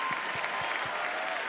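Audience applause at the opening of the New Wave 2012 song contest as the hosts are introduced, dense steady clapping from a large crowd with no voices over it.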